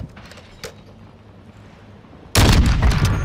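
A single loud, sudden sniper rifle report bursts in near the end of a quiet stretch of Call of Duty: Modern Warfare II match audio, followed by heavy noisy rumble.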